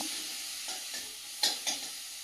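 Spice paste (masala) is stirred and fried in a pan, a continuous bright sizzle broken by a few scraping strokes of the spoon, close up with no voices.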